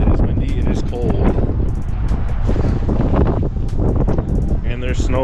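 Steady cold wind buffets the microphone in low rumbling gusts on a snowy day, with a voice talking over it and faint rustling throughout.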